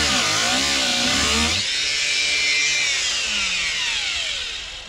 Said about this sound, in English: So I'm gonna get the angle grinder now,